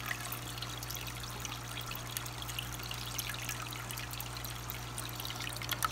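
Dechlorinated water trickles and pours steadily out of an aquarium filter chamber, a continuous soft stream of splashing at low level under a constant low electrical hum, with no talking.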